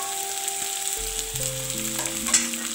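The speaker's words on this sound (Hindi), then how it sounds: "अभी हम इसमें सूखी लाल मिर्च डालेंगे, जरा सा फ्राई करेंगे।" Dry red chilies and onion fry in a pan with a soft, even sizzle under background music, with faint stirring near the end.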